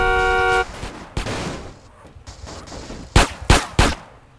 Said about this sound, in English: They're shooting at you, but you're not losing any health.